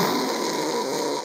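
A man imitates snoring by forcing air through a narrowed throat, giving a steady, rough, buzzing rasp that holds unbroken at close range.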